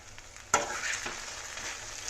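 Peanuts frying in hot oil: a sudden sizzle bursts in about half a second and then settles into a steady, close crackle with no voices.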